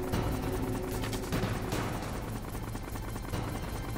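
Rapid gunfire bursts in Metal Gear Solid on PS1, dense automatic shots crackling repeatedly over a steady mechanical drone like a hovering helicopter, loud and continuous with no talk.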